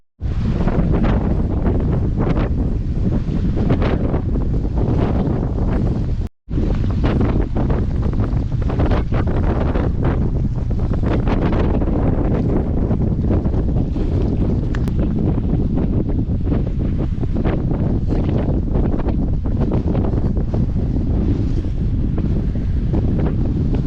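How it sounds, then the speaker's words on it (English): Strong wind on a Rocky Mountain ridge above a lake roars steadily into the microphone with heavy buffeting, broken by one brief dropout, then gusting on without pause. "It's windy."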